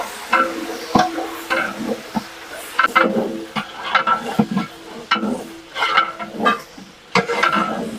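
Onion with ginger-garlic paste frying in a large pot at a hotel kitchen for kandoori mutton, a ladle scraping and knocking repeatedly against the metal over a low sizzle, close and uneven in rhythm.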